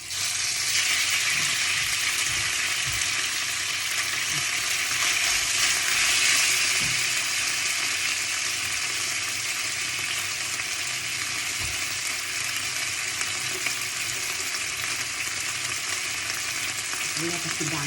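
Steady, loud sizzling of garlic and pork belly frying in a hot pan, a continuous crackling hiss with occasional stirring scrapes.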